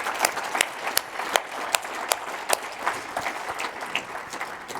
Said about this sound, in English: For those in the hall, can you give a round of applause, please, to our two candidates?